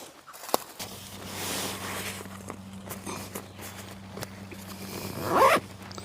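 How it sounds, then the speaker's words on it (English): Zipper on hammock camping gear pulled down and zipped back up outdoors during a rainstorm, a steady rasping run under the patter of rain, with a louder closing zip near the end; no talking. "you just pull it down and zip it back up"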